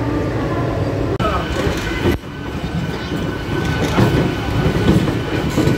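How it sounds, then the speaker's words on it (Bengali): The Howrah–New Jalpaiguri Vande Bharat express pulls out, a loud continuous rumble of rolling wheels and rail clatter close by, with a brief sharp click and a dip in level partway through. "হাওড়া নিউ জলপাইগুড়ি বন্দে ভারত ছেড়ে বেরোচ্ছে।"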